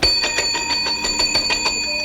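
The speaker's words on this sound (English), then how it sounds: "Is that the night bell?" A town's night bell rings in a steady run of bright, evenly spaced strikes, about six per second, in a 1950s Western setting, loud and unaccompanied by talk.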